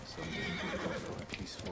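A horse in the video game Ghost of Tsushima gives a soft neigh amid faint hoof clip-clops and low game ambience, fairly quiet and close.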